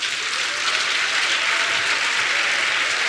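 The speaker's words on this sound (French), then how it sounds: "je vous demande d'applaudir encore" A gathered audience applauds a woman's testimony at a talk on believers and political issues, a loud, dense, steady wash of many hands clapping that holds unbroken throughout, with no voices over it.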